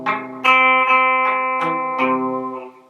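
Acoustic guitar chord played with the flats of the fingers touching the strings, giving a slightly muted ring; several strums sound close and alone over about three seconds, each attack fading unevenly.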